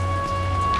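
Rain falling in Seattle, a steady hiss of drops heard over a constant low hum and faint steady tones, loud and unbroken, with no one speaking.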